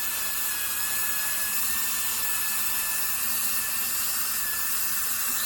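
Dremel rotary tool grinding the tip of a polymer clay pendant, a constant high whine with steady abrasive hiss, close and unbroken throughout.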